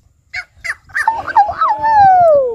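A voice mimics a dog during a playful animal-sounds game, starting with a few short yips and then a rising, drawn-out whine that slowly falls, loud and close.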